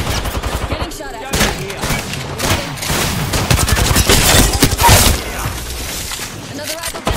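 Rapid bursts of gunfire in the battle-royale video game Apex Legends, dense overlapping shots and impacts nearly throughout, loud and close, with a voice talking over the gameplay.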